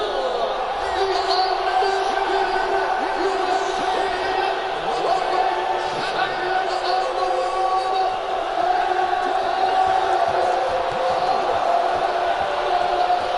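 A virtual arena crowd in the UFC 2 video game roars and cheers in a continuous loud wash after a lightweight championship fight, with a commentator's voice over it.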